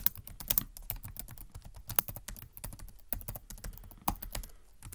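Fingers tap out a terminal command on a Chromebook keyboard, a rapid uneven run of light plastic key clicks up close with a few harder strokes.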